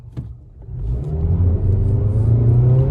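A 2023 Mazda 3 hatchback with a 2.5 engine, front-wheel drive and a 6-speed automatic, accelerates in sport mode, its engine note rising in a steady climbing drone after a brief low start, heard from inside the cabin.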